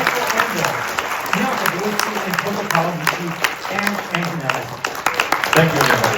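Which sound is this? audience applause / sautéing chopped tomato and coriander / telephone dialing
audience applause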